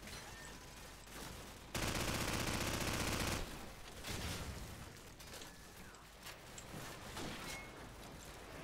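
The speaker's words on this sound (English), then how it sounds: "I wanna keep this machine gun." Automatic machine gun fire in Call of Duty 4: Modern Warfare, a sustained loud burst of rapid shots followed by scattered distant gunfire and battle noise, with brief talk at moments.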